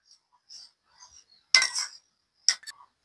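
A spoon stirs cumin powder into a pot of fish-head muri ghonto, heard as a few brief metallic scrapes and two sharp clinks against the pot's side, close and otherwise quiet.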